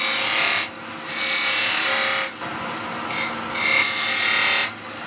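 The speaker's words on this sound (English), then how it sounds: "A very, very brief sanding." Wood being sanded on a lathe in a woodturning workshop gives a close rasping, rubbing hiss that comes in several bursts with short pauses between them, over a steady low motor hum and with no talk.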